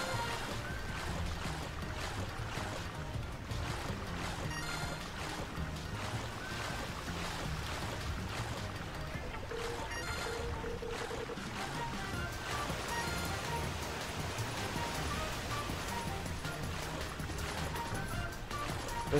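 A boat plunges down a waterfall in the video game Go Vacation, with a steady, dense rush of water and spray that runs unbroken for the whole stretch.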